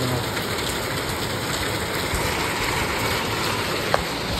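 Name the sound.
heavy rain falling outside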